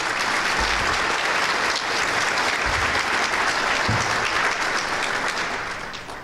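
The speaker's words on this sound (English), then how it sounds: "would you please stand for applause?" Sustained audience applause fills a breakfast event as school principals and directors stand, a dense, steady clapping that stays loud throughout and tapers slightly at the end.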